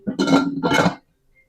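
A lid set down over a pot of freshly tempered moong masoor dal gives a short clinking metallic clatter lasting about a second, then quiet.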